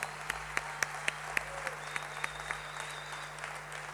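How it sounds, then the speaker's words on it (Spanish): Applause at the inauguration of an airport's Terminal B in Argentina, sounding faint and distant, with scattered individual claps standing out over a low steady hum. "Vamos a dar un aplauso a Leonor, una gran amiga de la Argentina."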